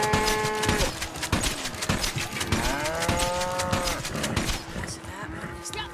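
Several cows, among them Hereford and Angus cattle in the video game Red Dead Online, low drawn-out moos overlapping one after another, loud and close, with hoof clatter and other game noise underneath.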